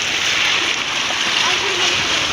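Floodwater after heavy rain pours and splashes across a village road in a continuous loud wash, with no break in the rushing, spattering sound.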